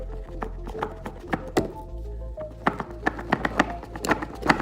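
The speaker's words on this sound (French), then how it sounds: "Donc déjà on va ouvrir la boîte." A cardboard product box for a home automation hub is opened by hand, with a series of dull thunks, taps and scraping knocks, some clustered and some isolated, fairly close and with no talk over them.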